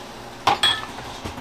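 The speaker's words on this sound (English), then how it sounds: "Give that a good stir." A spoon clinks against a pot while clam chowder is stirred, two quick metallic knocks followed by a faint scrape, close by with no talking.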